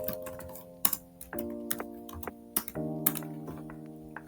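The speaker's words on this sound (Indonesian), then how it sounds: "Kemudian kita ketikkan perintah no auto summary." Computer keyboard keys are typed at a desk in a short burst of close, crisp taps, some louder than others, with brief pauses and no talk.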